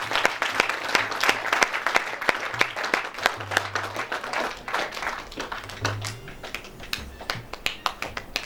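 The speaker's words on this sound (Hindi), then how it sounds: "जोरदार ताली से स्वागत हो जाए।" Loud applause from an audience welcoming a floral tribute to the poet Vidyapati at a commemorative event, dense steady clapping throughout with sharp individual claps standing out.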